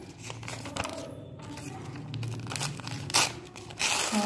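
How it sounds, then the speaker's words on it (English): Orange and green paper is torn by hand for a kite craft in a nursery class, making a run of ripping and crinkling bursts, with a louder tear near the end. "So now we will tear it, these papers"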